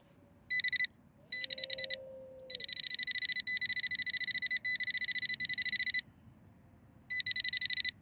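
Metal detector signal tone in a UK field, sounding as bursts of rapid electronic beeping that start and stop several times, close and clear over faint background noise.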